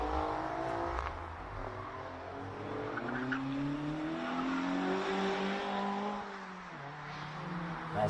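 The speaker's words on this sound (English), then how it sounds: "Mazda MX-5 going into the hairpin." A Mazda MX-5 racing at a hill climb brakes and revs into a hairpin, its engine note rising and falling through gear changes, loud and close, alone without talk.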